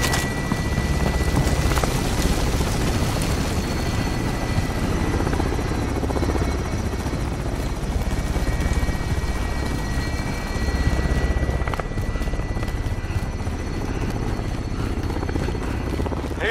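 A helicopter in the Call of Duty video game thunders steadily close by, its rotor chop and engine whine continuous and loud throughout, with no voices over it.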